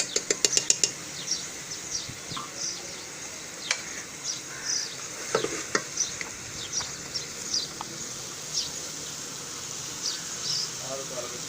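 Spicy achari spaghetti sauce with chili sauce, soy sauce and spices sizzles in a pan, a steady hiss broken by frequent small pops and crackles. No one speaks.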